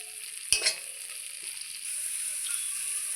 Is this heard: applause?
no